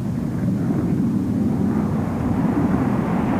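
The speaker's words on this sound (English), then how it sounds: "the F-15 Eagle, the match of any fighter in the air" F-15 Eagle fighter jet flying, a steady loud low roar of jet engine noise that holds evenly throughout with no voices.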